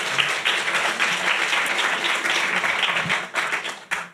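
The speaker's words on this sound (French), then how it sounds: "Je pense qu'on peut les applaudir" An audience at a French podcast panel on fifty years of feminism in Marseille applauds for about four seconds, a steady dense wash of clapping that thins out near the end.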